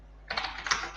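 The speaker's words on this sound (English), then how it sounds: "type here emp002 and password 234" Rapid keystrokes on a computer keyboard, a quick close burst of clicking after a brief quiet moment.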